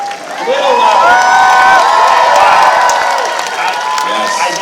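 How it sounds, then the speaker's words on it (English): Loud applause and cheering from a fan convention audience in San Jose, with sustained clapping and whoops and shouts rising and holding throughout. "a round of applause"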